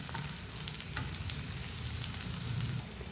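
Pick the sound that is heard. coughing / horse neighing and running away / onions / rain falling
onions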